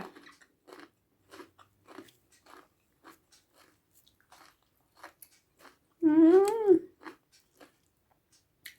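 Crunchy golden apple snail salad being chewed close up, with steady rapid crisp bites and crunches running throughout, briefly covered by a loud nasal vocal sound partway through.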